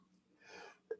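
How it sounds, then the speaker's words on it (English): A single sneeze from a man during a livestreamed coding office-hours session, with a breathy build-up followed by a short sharp burst, close to the microphone. "Let me sneeze."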